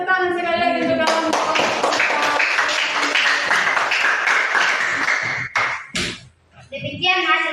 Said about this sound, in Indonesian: Oke, tepuk tangan sekali lagi untuk kawan.